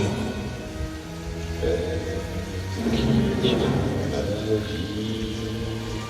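Torrential rain and rolling thunder in the soundtrack of a summer light show at the Château de Blois. Low rumbles swell over a steady wash of rain, moderately quiet throughout.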